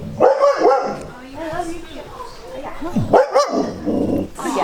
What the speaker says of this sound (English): I hear some puppies